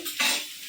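Okra being stirred and fried in a pan with onion, chili and salt, a brief close scrape of a spoon over a soft sizzle.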